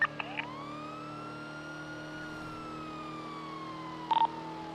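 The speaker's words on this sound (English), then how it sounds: "Is this one I should turn my sirens off" Police car siren wailing steadily inside a Nopixel GTA roleplay game, a long rising and falling tone heard at moderate level with a brief burst of another sound near the end, no talk.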